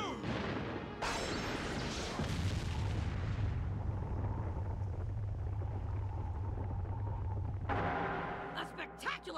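Jutsu attack explosions in the Naruto Ultimate Ninja Storm video game boom out loud and close, a sharp blast at the start rolling into a long, heavy rumble that fades near the end.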